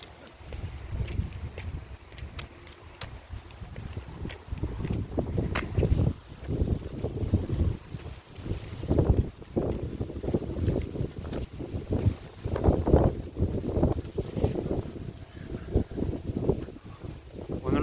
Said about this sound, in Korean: 오늘은 제법 바람이 많이 부는 날입니다.